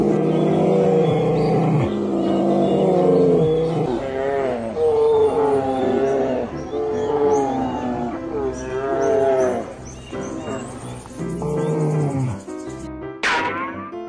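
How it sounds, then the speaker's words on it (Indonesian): A bear roars in a series of loud, deep, drawn-out growling calls that run almost without a break for about fourteen seconds. No voices are heard. "Beruang."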